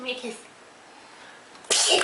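A baby lets out one sudden, sharp sneeze near the end, loud and close, following an adult's soft spoken words.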